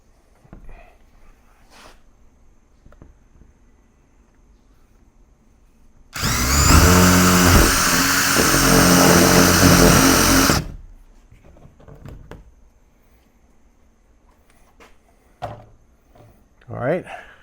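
A power drill bores through the wall of a DIY teardrop trailer door in one steady, loud whining burst lasting about four seconds, with quieter knocks and handling sounds before and after.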